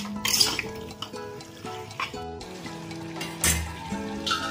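Chicken is stir-fried in a pan with cumin and coriander powder, with a utensil clinking and scraping in uneven strokes over a soft sizzle and background music, close and moderately loud.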